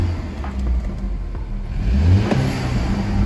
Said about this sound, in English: But we're listening for that blow off valve.